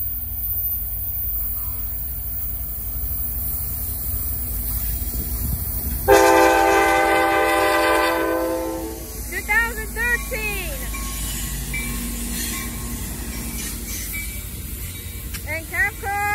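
An Amtrak passenger train led by an F59PHI locomotive arrives at Fremont Centerville station, its rumble building before a loud, sustained horn blast; afterward the rail noise fades while excited voices chatter nearby.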